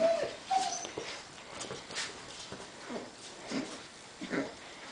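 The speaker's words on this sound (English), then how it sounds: "You can hear her growling a little bit." A young puppy gives soft, whiny little growls while tugging on a toy, with scuffling and faint yips throughout.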